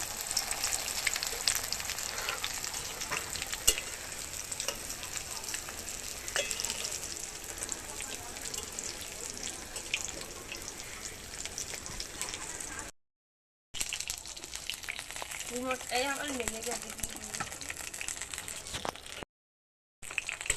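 Rings of banana flower fry in hot oil, a continuous close sizzle and crackle broken by two short silences, with a voice speaking over the frying toward the end.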